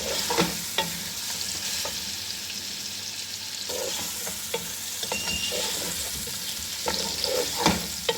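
Chicken browns in a pan for Punjabi chicken pulao, giving a soft continuous sizzle with irregular clinks and scrapes of stirring up close, no voices.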